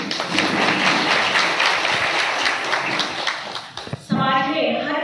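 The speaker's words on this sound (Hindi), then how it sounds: "मैं चाहूंगी कि सभी लोग तालियां बजाएं" An audience at a social organization's lunch event for daughters applauds steadily, a dense wash of clapping that fades out before a voice resumes speaking.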